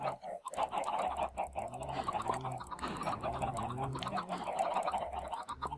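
Chickens in a pen in Minecraft, a dense overlapping run of clucks and squawks, close and fairly loud, repeating without pause.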